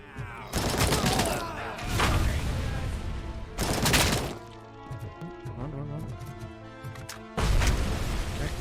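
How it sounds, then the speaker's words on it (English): Bursts of AK rifle fire ring out in the video game Robocop: Rogue City, several loud rapid volleys separated by short gaps, with faint game sounds in between. "Robocop with an AK."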